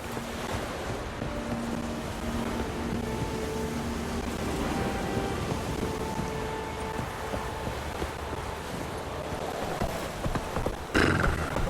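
A horse gallops across the world of The Witcher 3, its hoofbeats a steady rhythmic clatter over a constant wash of surf-like ambience, with a louder rustling burst near the end.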